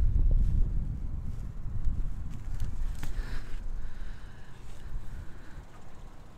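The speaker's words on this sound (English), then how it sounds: "if my microphone's really staticky or windy, I'm sorry. It's just really windy." Wind buffets a microphone outdoors on a blustery trash-collection day, a steady low rumbling roar that surges and dips throughout with faint rustling in the background.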